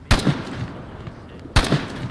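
Two sharp gunshots from a video game forest patrol battle, spaced about a second and a half apart, each a loud crack followed by a short rumbling tail over quiet background ambience.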